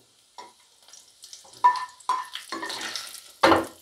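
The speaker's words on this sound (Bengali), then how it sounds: "কাঁচা রসুন কুচিয়ে রেখেছিলাম, ভেজে নিচ্ছি একটু" Chopped raw garlic fries briefly in a pan. Scattered short scrapes and stirring sounds come over a faint, intermittent sizzle, ending in a louder burst.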